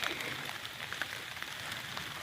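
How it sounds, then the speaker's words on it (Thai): Rain patters on leaves in a forest during mushroom foraging, a steady, soft hiss with scattered close drops and no other sounds. "ตอนนี้ก็ฝนโปรยปลายลงมาเลยครับผม"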